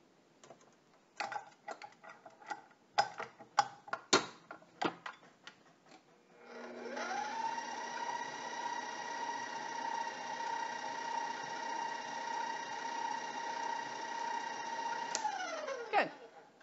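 A stand mixer with a paddle blending butter for a coffee cake filling, following several clicks and taps; the motor spins up into a steady, moderately loud whir for about nine seconds, then winds down.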